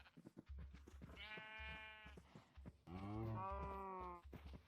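Cows in the Minecraft video game give two long, drawn-out moos, the second louder and fuller than the first, while faint footsteps or clicks tap beneath and between the calls.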